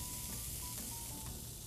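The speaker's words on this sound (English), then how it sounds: "you can hear the cheese kind of sizzling in the pan" Cheese sizzles in a frying pan with a steady, dense hiss and faint crackle, close and continuous throughout with no voices.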